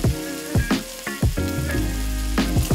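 A burger bun toasting in hot bacon fat in a pan, with loud close sizzling and frying crackle, rising in bursts as the bun is pressed and moved.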